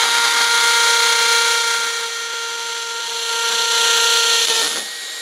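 A TOTAL power drill bores through a brick with a loud, steady, high whine that dips and swells slightly under pressure, then cuts off abruptly near the end.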